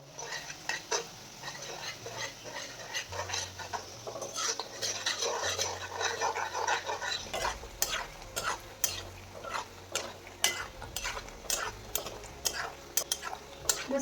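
Shankarpali pastries fry in hot oil with a soft continuous sizzle, while a metal slotted spoon repeatedly clinks and taps against the pan, close by.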